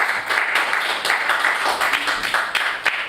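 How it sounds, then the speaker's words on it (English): An audience claps in a short burst of steady applause, moderately loud and filling the whole moment. "So please give our brother Stephen Graham a round of applause."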